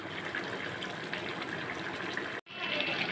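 Chicken curry gravy boils hard in a pot, giving a dense continuous bubbling and hissing roar that stays steady and close, with one brief cut near the end and no voices.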